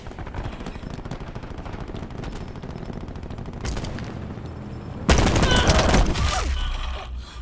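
Black Ops 4 video game gunfire on Nuketown: rapid automatic bursts rattle on and off, then a louder, denser volley of shots and blasts erupts near the end.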